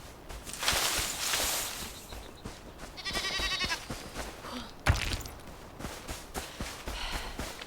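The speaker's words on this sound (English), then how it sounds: "I don't like the tone that sheep just took with me." Sheep bleating in the video game Enshrouded, a few short nasal calls breaking through a busy layer of game sounds and effects, fairly close but not loud.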